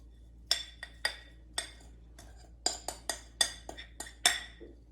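Metal utensil clinks and scrapes against a bowl while a gluten-free green bean casserole topping is mixed, a dozen or so sharp irregular clinks over quiet room tone with no talking.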